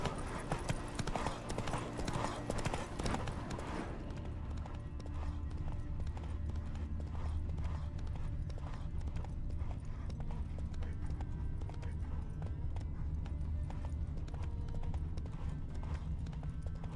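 Hooves of the horse Roach clip-clopping steadily in The Witcher 3 video game, a close rhythmic clatter that continues throughout, with a busier mix of sounds in the first few seconds.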